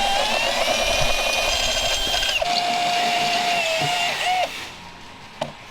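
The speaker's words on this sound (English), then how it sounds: "we're gonna try the stepper bits out" Step drill bit, made in the USA, drilling with a high whining tone that holds steady, then steps down at about two and a half seconds and cuts off near four and a half seconds, followed by a brief clack.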